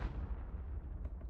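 A fire spell, Confringo, cast in a video game lands as a loud, rumbling blast that rolls on for over a second with a low, booming body and a slight crackle near the end.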